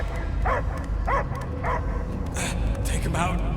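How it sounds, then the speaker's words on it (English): Dog barking and yelping in the Guardians of the Galaxy video game, several short barks spaced through the clip under dense game sound and music, with higher whimpering yips toward the end. "I hear only barking."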